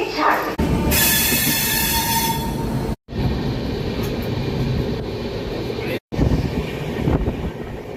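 A train stands at the Kharagpur station platform, its loud, rumbling noise filling the space with a bright hiss early on. Two abrupt cutoffs break the sound before it resumes just as dense.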